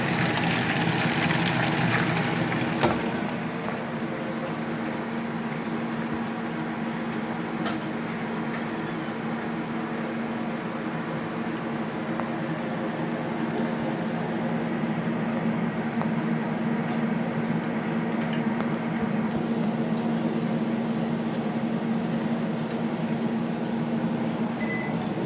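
Bacon deep frying in grease, heard as a continuous hissing, bubbling sizzle that holds steady for about twenty-five seconds with a low appliance hum underneath, slightly louder in the first few seconds and no talking.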